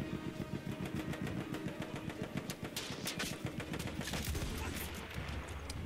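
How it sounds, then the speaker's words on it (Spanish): Rapid machine gun fire in the video game Battlefield 1, a dense, continuous rattle of shots layered with engine rumble and battle noise throughout, loud and close. "La ametralladora es un problema."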